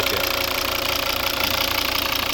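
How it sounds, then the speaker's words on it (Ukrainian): A Volvo V70 with a 2.0 D3 five-cylinder turbodiesel idles steadily and close by, a continuous even drone with a faint knocking diesel clatter throughout. "Ось робота двигуна"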